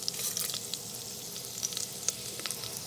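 Curry leaves frying in hot oil with green chilies, a fine steady sizzle with scattered crisp pops and spits, close and alone.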